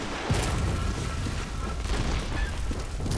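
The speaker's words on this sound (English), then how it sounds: "I need full stamina for dodging the cannon." Cannon fire in the video game Bloodborne, a loud, dense booming roar that fills the whole stretch without pause, like heavy blasts and rumble layered together.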